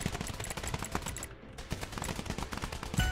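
Rapid automatic gunfire from the zombie roguelike action game Deadly Days: Roadtrip, dense bursts of shots rattling continuously with a brief lull midway before resuming.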